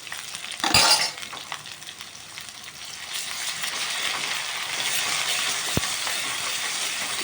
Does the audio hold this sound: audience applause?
no